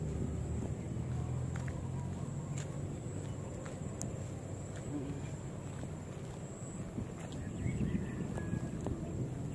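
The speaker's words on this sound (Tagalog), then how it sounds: "Sarap yung ano ng hangin." Steady wind noise blowing outdoors, a constant low rumble buffeting the microphone with faint background sounds throughout.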